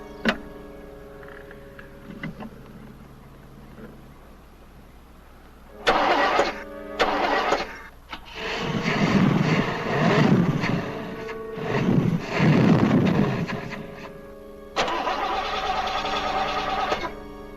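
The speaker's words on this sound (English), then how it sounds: "I can't fix the car with you starting it." A car engine is cranked repeatedly: several bursts of starter whirring and sputtering firing, separated by pauses, with longer rough revving in the middle, then a final steady grinding run; no talking.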